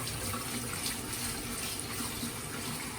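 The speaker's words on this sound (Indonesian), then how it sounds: "Jadi dicuci aja di bawah keran begitu." Kway teow noodles rinsed under a running kitchen tap, a steady close hiss of flowing water and splashing that carries on evenly throughout with no talk.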